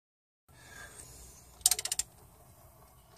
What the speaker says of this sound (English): And then the cams will catch the body of the stud and then we'll start to move it.